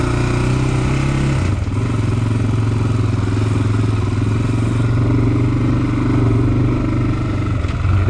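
An off-road vehicle engine on a tight trail runs loud and steady at close range for the whole stretch, its drone holding with a brief dip and shift partway through, with no talk over it.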